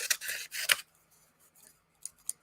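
Crisp snips of scissors cutting, a burst of several quick close cuts followed by quieter sparse snips, no talk.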